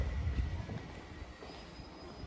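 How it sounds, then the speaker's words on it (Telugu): A long train passes through Cherlapally railway station, a steady broadband rumble with a faint high whine, close and continuous with no talk. "టు బి ఫ్రాంక్ చెప్పాలంటే ట్రైన్ చాలా పొడవు ఉంది, దీన్ని మనం క్యాచ్ చేయలేము"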